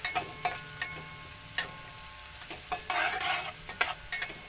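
Garlic and onion sizzle in a pan for Filipino bopis, with a steady frying hiss broken by repeated sharp scrapes and clanks of a utensil stirring, and a louder surge of sizzling partway through.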